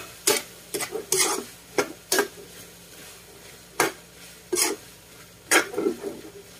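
Pork innards for Ilocano-style dinuguan fry in a pan while being stirred, with scraping utensil strokes landing in irregular bursts over a quiet background sizzle.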